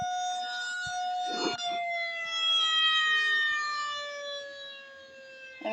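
A tornado siren in the Roblox video game wails alone in a steady, sustained tone that swells louder and then fades slightly, like a rotating horn sweeping past.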